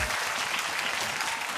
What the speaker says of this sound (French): Si vous venez vraiment de Cocody, applaudissez fort pour vous-même.